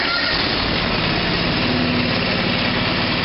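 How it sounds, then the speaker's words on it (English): A 425 machine's engine runs at a steady idle with the choke applied, a constant close mechanical drone with low rumble and no voices, though the start itself is not clearly caught. "Let's start this thing up. Give it a little choke."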